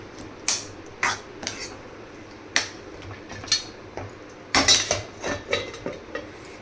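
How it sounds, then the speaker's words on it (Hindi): Spoon stirring and a lid clattering on a pot of tomato chutney with jaggery and dry fruits, a series of sharp metallic clinks and scrapes, some clustered, moderately close with no talking. "इसे चलाकर और हम ढक देंगे और ढक कर पकने देंगे।"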